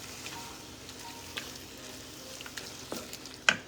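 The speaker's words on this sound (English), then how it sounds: "we're gonna let that simmer for a couple of minutes" Jackfruit taco filling simmering in a pan gives a faint, steady low sizzle with a few soft clicks and one sharper tap near the end, heard alone.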